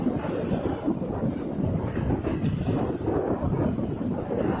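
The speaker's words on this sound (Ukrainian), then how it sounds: "Зараз піднявся вітер" Steady wind blowing hard against the microphone beside open water, a constant low rushing roar that never lets up, with no voices.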